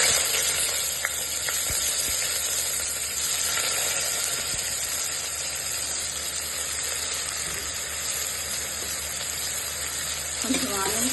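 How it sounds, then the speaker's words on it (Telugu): Onions dropped into hot oil with bay leaf and shahi jeera for a Hyderabadi mutton curry, giving a loud continuous sizzle and hiss that holds steady, with a brief stir near the end. "ఆనియన్ వేస్తున్నాను."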